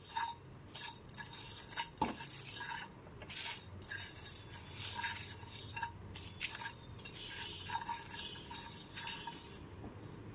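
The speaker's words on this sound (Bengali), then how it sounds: "হালকা করে মশলাটা ভেজে নেব মশলাটা যেন পুড়ে না যায় সেদিকেও খেয়াল রাখতে হবে" Whole spices, fennel among them, are dry-roasted in a pan over a very low flame, giving soft, steady scraping and stirring with occasional light clinks of utensil on metal, close and continuous without talk.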